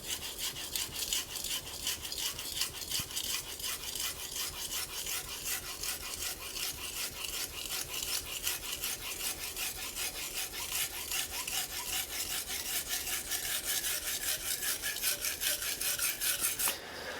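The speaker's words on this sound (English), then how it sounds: "let's go ahead and get a sharpening test in here so you guys can hear the feedback." A blade scrapes steadily back and forth across a Japanese natural whetstone in quick, gritty, rhythmic strokes, close and continuous.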